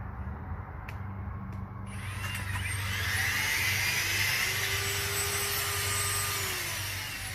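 A Ryobi One+ 18-volt HP lithium-ion cordless earth auger with a 6-inch bit running in reverse in a hole, a steady close whirring motor drone that rises after a brief start and holds, alone without talk.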